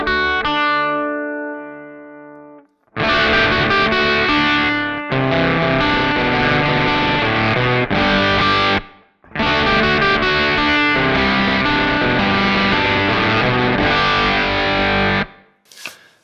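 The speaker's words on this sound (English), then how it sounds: "So getting this octave at a higher value, you get this octave sound." An electric guitar played through a Kemper Profiler with an octave effect rings out in loud, distorted, sustained chords and phrases, with a brief pause near the start and short breaks between passages; no one speaks.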